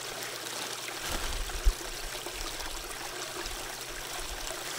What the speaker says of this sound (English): The water is flowing on the sluice box.